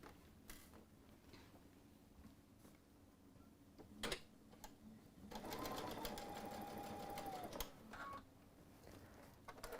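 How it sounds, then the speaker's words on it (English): A sewing machine top stitches across a tote bag, running steadily for about two seconds midway after some quiet handling and clicks, with a faint whine in the motor. "We're going to top stitch across."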